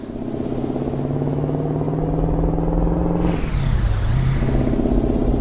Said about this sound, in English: Quite a high revving engine, this, I've noticed.